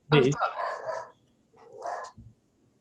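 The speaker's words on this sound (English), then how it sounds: "my dog's deciding to go crazy outside." A dog barking outdoors during a garden discussion gives two sharp, fairly close barks separated by a short pause, with no talking over them.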